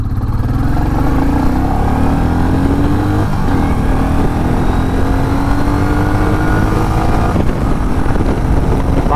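A black Royal Enfield Bullet 350 Battalion motorcycle pulls hard through its gears on a top-speed run, the single-cylinder engine droning steadily and rising in pitch, with heavy wind rush over the microphone throughout.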